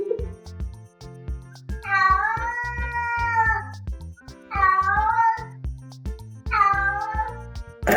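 A cat meows in three long, drawn-out calls. Each lasts more than a second and they come at steady intervals. A rhythmic low backing of clicks and thumps runs under them throughout.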